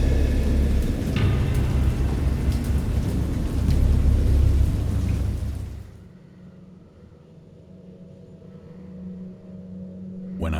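A thunderstorm of heavy rain and rolling thunder roars loudly for several seconds, then breaks off into a much quieter stretch with low rumbling and softer patter.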